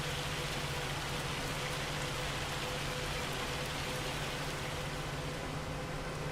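Hail hammering down during a storm in the farming game Farming Simulator 25, a loud, dense and steady drumming wash with no gaps, with no talk over it.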